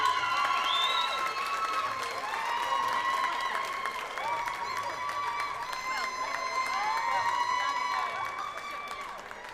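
At a sheep shearing championship at the Balmoral Show, a crowd applauds and cheers a senior champion. Steady clapping and whoops run throughout, with voices mixed in.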